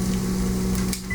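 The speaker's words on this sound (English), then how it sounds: "the third batch in the microwave, 2 slices at a minute and a half" A microwave oven hums steadily while cooking two slices of Oscar Mayer turkey bacon, a constant close drone with a faint click near the end.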